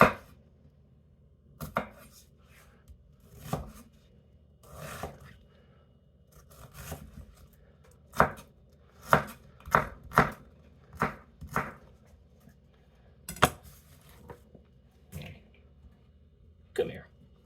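A knife chops onions on a cutting board in sharp, separate thwacks, about a dozen irregular strikes spaced across quiet pauses, close and fairly soft.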